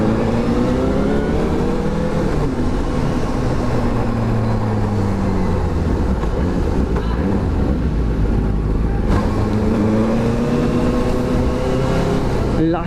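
A Benelli TNT600i motorcycle engine runs steadily while riding, a loud, continuous drone with shifting revs that rise and fall, the roar carrying under passing wind noise throughout.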